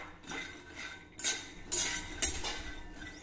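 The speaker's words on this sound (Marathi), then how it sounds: "आता हे शेंगदाणे मंद आचेवर खरपूस भाजून घेऊ" Peanuts being dry-roasted in a kadhai over low heat, heard as a few scattered metallic clinks and scraping strokes of a utensil against the pan, fairly quiet and uneven, with no voices.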